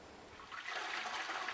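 A toilet flushes close by, a quiet rushing swell of water that surges up after a brief pause and keeps gushing steadily to the end.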